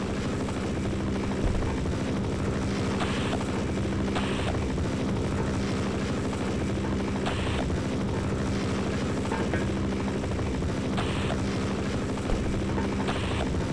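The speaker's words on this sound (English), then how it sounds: "Get into the chopper, Freeman." Continuous helicopter rotor and engine drone from the Half-Life mod Heart of Evil, steady and close throughout, with a rhythmic low thrum and occasional faint in-game background sounds.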